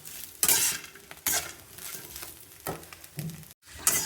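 Sliced bitter gourd stir-frying in a little oil in a pan, with a steady sizzle broken by repeated scraping and clinking strokes of a spatula against the metal.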